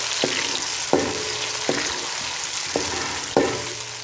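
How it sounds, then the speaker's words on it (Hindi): Tomatoes, green chillies and garlic are stirred into fried onions for an aloo moongre sabzi: a continuous sizzle broken by five spaced scrapes and knocks of a spoon against the pan, close up and with no voices. "अब इसमें टमाटर, सब्ज़ मिर्चें और लहसुन ऐड करते हैं। इन सब चीज़ों को अच्छी तरह मिक्स कर लेते हैं।"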